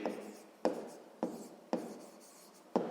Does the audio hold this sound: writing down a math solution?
yes